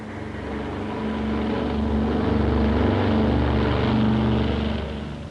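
Propeller engines of a World War II-era American transport plane drone steadily, a loud low throbbing hum that swells slightly and holds throughout, with no voices.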